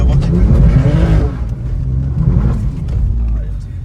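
A race car engine in Gran Turismo 7 on the Nordschleife revs and accelerates loudly, its pitch rising and falling through gear changes, with someone talking over it.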